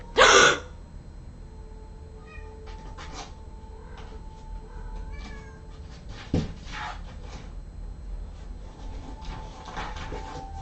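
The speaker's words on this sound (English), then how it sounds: "Ignore the meowing coming from the other" A cat meows a few times from another room in short plaintive calls, fairly faint and somewhat distant, alongside light thumps and household rustling.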